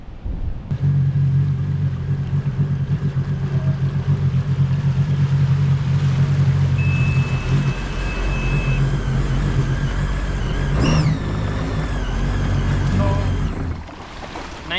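A jet ski engine runs at full throttle in a Sea-Doo versus Yamaha challenge, a loud, close, steady roar with a constant low drone and wind and water rush. It dips briefly near the end.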